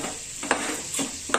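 Onions stirring and frying in a pan over a medium gas flame, a steady soft sizzle broken by three brief scraping stirs, close and moderately loud with no voices.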